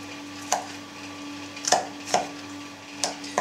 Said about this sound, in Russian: нарезать мелкими кубиками